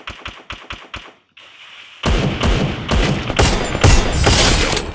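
Gunfire in the mobile battle-royale game Free Fire: five quick, evenly spaced single shots, a short pause, then a dense, loud spell of overlapping automatic fire and impacts at close range. No one talks over it.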